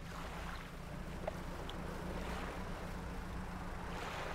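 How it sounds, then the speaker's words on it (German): In the fishing video game Dredge, wind blows as a steady, soft rushing wash over open water, with a low droning hum beneath and a few faint distant ticks, and no one talking. "Ach, der Wind ist bestimmt auch ein Hinweis, oder?"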